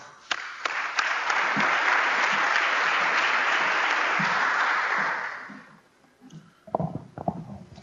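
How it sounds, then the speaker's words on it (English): An audience at a Lustre user group conference session applauds a speaker from CSCS, loud, dense clapping that rises quickly, holds for about five seconds, then fades into scattered claps and small movement noises. "let's have a round of applause for Stefano"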